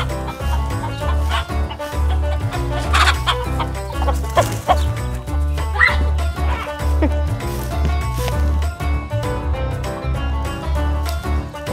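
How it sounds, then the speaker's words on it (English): A loose chicken clucks repeatedly in a vegetable garden, the calls loud and close over a steady low background hum, with no talking. "Got a gosh darn chicken in the garden."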